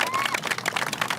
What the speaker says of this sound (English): Please give yourselves a round of applause because you actually made this happen.